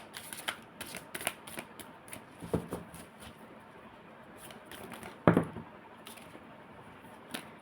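Tarot cards are shuffled and drawn by hand, making soft, close riffling and slapping flutters with a few sharper card snaps, quiet and with no one speaking.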